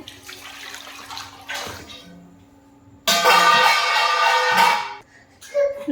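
Water poured from a tap into a cooking pot holding eggs and potatoes, a loud steady splashing rush lasting about two seconds after quieter kitchen clatter.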